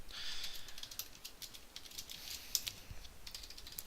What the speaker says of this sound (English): Now I'm going to type this up real quick